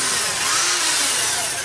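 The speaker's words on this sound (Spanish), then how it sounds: "Vamos a utilizar el taladro." An electric drill spins the armature shaft of a hair dryer motor, giving a steady, loud, broadband whirring hum that holds unbroken throughout.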